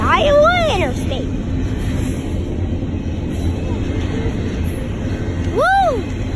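An Iowa Interstate Railroad train rumbles past with steady broadband noise, and two loud rising-and-falling horn sweeps ring out near the start and end.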